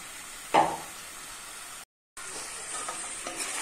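Potatoes and pumpkin are stirred into a duck curry with ash gourd, a soft scrape and clink of the spoon over a quiet sizzle, broken by a brief gap of silence.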